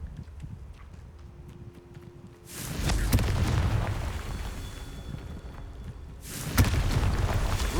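Confringo blasting spells go off in Hogwarts Legacy with two loud, broad booming bursts, the second one sharp, each followed by a sustained rumbling roar over low background game ambience.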